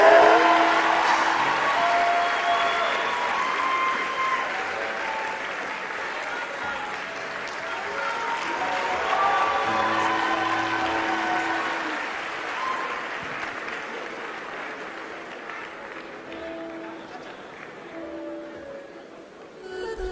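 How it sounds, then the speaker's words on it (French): Audience applause after a comedy act at a Cameroonian show: a dense, loud crowd clapping that swells and fades over several seconds, with voices and cheers mixed in. "Merci d'applaudir encore pour ce numéro d'humour"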